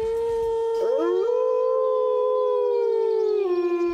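Someone in the New England woods imitates a wolf howl, one long sustained voice that rises, holds and then slides down, loud and close, with no other talk.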